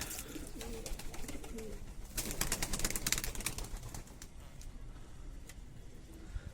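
Pigeons coo nearby in low, soft throaty calls, with a brief flurry of wing flaps in the middle and faint outdoor background noise.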